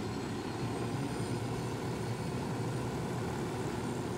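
Helicopter flying in the video game Ghost Recon Wildlands, a steady, continuous rotor and engine drone that stays loud and unbroken throughout, with no talking.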